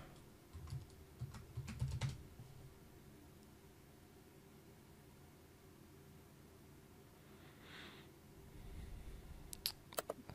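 Keys clatter on a computer keyboard at a Windows 10 login on a Supermicro SuperServer 5028D-TN4T, short bursts of typing near the start and again at the end with quiet between, close and soft.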